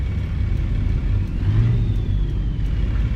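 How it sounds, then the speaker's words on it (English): The Slavjerry C12 diesel truck engine in a truck simulator game holds a steady, low, continuous drone, rising slightly in the middle as it pulls, with a faint higher whine above, and no talk. "truck sounds nice, man. It's the C12 from Slavjerry. Great motor."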